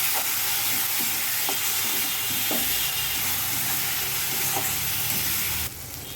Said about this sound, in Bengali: নুন, শাহি গরম মশলা, জিরে গুঁড়ো, লঙ্কা গুঁড়ো, চিনি দিয়ে ভালো করে সাঁতলাবো